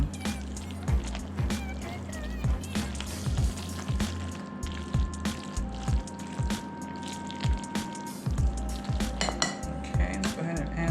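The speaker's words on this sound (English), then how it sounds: "let's go ahead and just give it a little stir." A spoon stirs four cheese mac and cheese in a bowl, giving soft, repeated scraping and clinking strokes in an even rhythm, close and fairly quiet.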